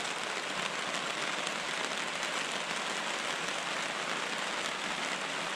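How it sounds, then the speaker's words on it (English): A heavy, cold rain downpour pounds steadily on surfaces nearby, a dense, unbroken hiss of rain that stays constant and loud throughout. "we're definitely going to get some gutter effect with this downpour."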